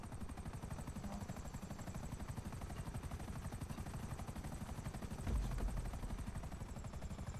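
A helicopter flies in GTA 5 Online, its rotor producing a fast, even thumping pulse that continues throughout at a fairly low level, with a brief louder low rumble near the end.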